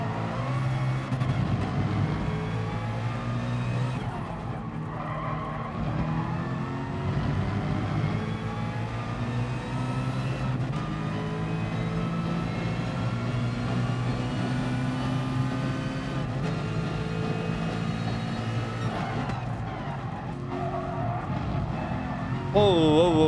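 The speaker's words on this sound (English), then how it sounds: "Oh, listen to that engine on that 787." Mazda 787 race car engine roaring in the GT Sport video game, a continuous high-revving drone with rising and falling pitch through gear changes across the whole stretch, with a voice talking over it at times.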